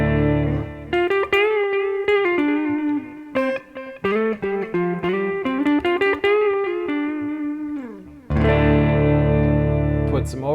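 Walnut Stallion prototype electric guitar played through the neck pickup with effects, a run of distorted single notes and short phrases with gaps, ending in a sustained ringing chord, loud and close.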